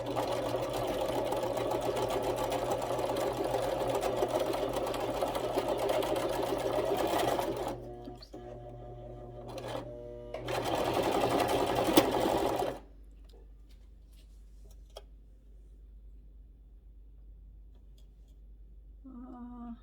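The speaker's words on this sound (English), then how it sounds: "I'm just gonna start sewing, and I'm gonna also do the. When I hit like the beginning and the end, I'll do that quick little reverse to get some back stitching" A home sewing machine stitches fabric with a fast, steady mechanical whir, running for several seconds, pausing briefly, running again for a short burst, then stopping into near silence.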